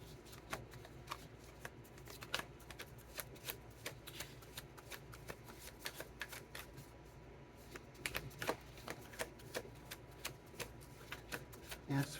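Tarot cards being shuffled and handled up close, a dense run of quick papery riffles and flicks that go on for several seconds and turn a little sharper toward the end.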